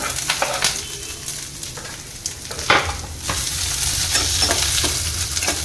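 Coconut and onion fry in coconut oil in a pan, giving a steady close sizzle with scattered sharp crackles and stir scrapes that rise a little in the second half, with no talk.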